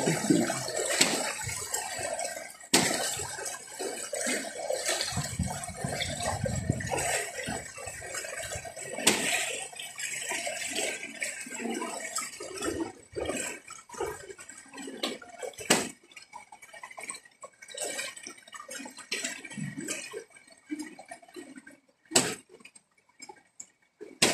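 Water sloshing and splashing as it is shifted into ringcon planters during deep flooding from a storm, with irregular pours, drips and knocks, fairly close and moderately loud, no talk over it.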